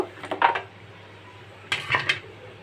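Washed jackfruit seeds tipped into a cooking pot for a mashed bhorta, producing two short bursts of hard clattering and rattling against the metal, close by and fairly quiet.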